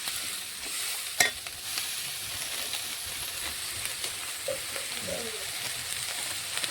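Steady sizzling and frying in a pan as a paste of onion, garlic and ginger-cumin with salt and turmeric is stirred for a restaurant-style chicken gravy, with one sharp utensil clank early and soft scraping throughout, no talking.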